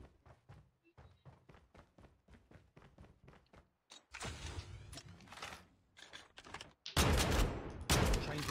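Shotgun fire in the mobile shooter Call of Duty Mobile: a rapid run of sharp clicks gives way to heavy booming blasts and bursts of gunfire, loud and close.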